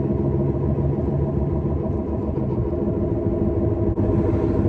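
A Honda Civic doing a burnout, its engine roaring steadily and loudly close by, with a continuous rough rumble throughout and no break in the noise.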